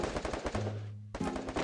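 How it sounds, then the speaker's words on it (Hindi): Rapid automatic gunfire from the video game Free Fire rattles in quick bursts, breaking briefly for a low droning tone before the firing resumes just as fast. "फिर गोली चली,"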